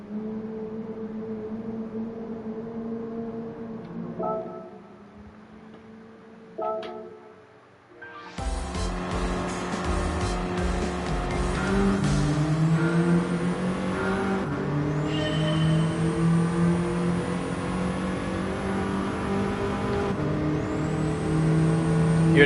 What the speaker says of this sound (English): Hear that turbocharger kicking in